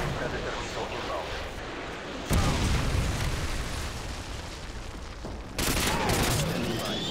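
Predator missile strikes in Modern Warfare 2 Team Deathmatch land as two sudden heavy booms, each a loud broadband blast with a rumbling tail, over a steady bed of gunfire and battle noise.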